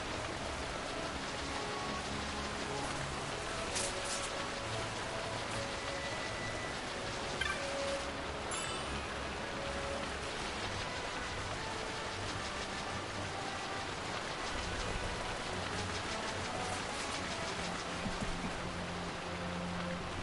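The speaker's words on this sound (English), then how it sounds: "Looks like there's a lot heavier rain on the cell that we just came out of." Rain falls steadily in the video game Final Fantasy XII, a constant, even hiss of downpour with occasional small clicks and no voices.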